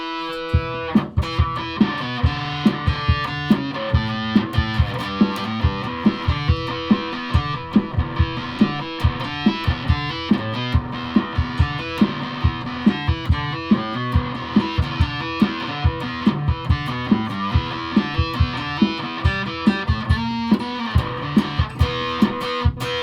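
A piccolo bass through a guitar amp with fuzz and distortion plays a rhythmic riff of repeated plucked notes with a gritty, buzzing tone, loud and steady throughout.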